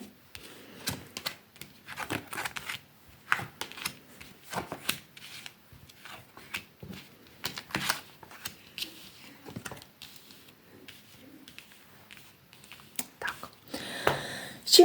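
Soft, close tarot card handling: repeated light flips, slides and taps in an irregular rhythm, with faint whispery sounds between them.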